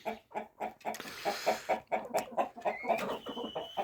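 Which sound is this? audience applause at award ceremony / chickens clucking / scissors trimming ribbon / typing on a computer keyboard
chickens clucking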